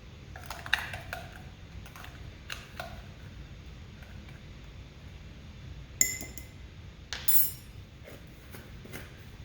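Metal measuring spoons clink against bowls and jars while seasonings are mixed: a few scattered light ticks and taps near the start, then two sharper, brighter clinks later, all close up over a quiet room hum with no talk.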